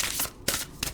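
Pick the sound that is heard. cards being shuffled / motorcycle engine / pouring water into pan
cards being shuffled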